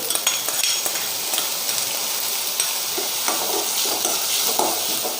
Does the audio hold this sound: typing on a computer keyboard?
no